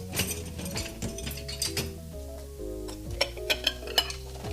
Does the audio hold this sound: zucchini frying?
yes